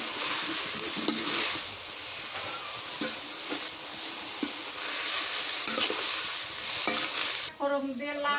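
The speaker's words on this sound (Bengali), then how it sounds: "ফোড়ন দিয়ে লাউ ভাজি করলে" Bottle gourd frying in oil with a tempering of black cumin in a village kitchen. A continuous soft sizzle and hiss runs throughout, broken by clinks of stirring, and ends in a brief louder rattle.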